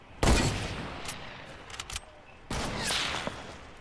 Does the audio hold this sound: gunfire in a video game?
yes